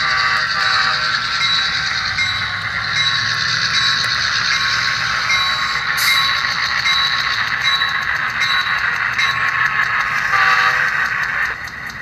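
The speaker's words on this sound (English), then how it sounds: "Now arriving at the NBC Studios, train number 488, Maine Central Tank Cars." Model train with Maine Central tank cars running on track, a loud continuous mechanical whir and rattling click of wheels and gears, steady throughout with no talk.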